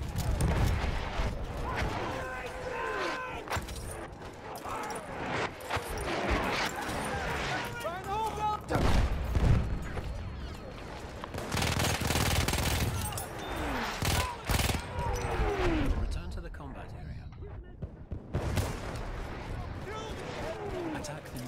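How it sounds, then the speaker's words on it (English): Enemy artillery barrage in Battlefield 1: rolling booms and bursts of gunfire pound through a chaotic battle, with voices talking over the loud, dense fire. "Wait for the enemy artillery barrage to stop firing."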